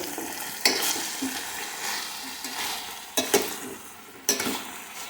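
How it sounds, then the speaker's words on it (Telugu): Broad bean curry being stirred in a pan, a low sizzle broken by a few sharp scraping strokes of the spoon against the pan, quiet and close. "కర్రీ ఒకసారి కలుపుదాం మధ్య మధ్యలో కలుపుకుంటూ ఉండాలండి"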